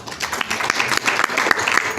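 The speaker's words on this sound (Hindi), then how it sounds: "तालियां बजा दीजिए।" An audience at a spiritual talk breaks into applause, a brief burst of dense, crisp clapping from many hands, fairly close and steady with no speech over it.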